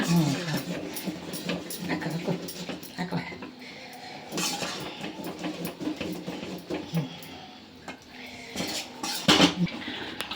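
A spoon scrapes and clanks against a pot as flour dough is stirred on a gas stove for homemade kajjaya, irregular metallic knocks and scrapes with someone talking over them.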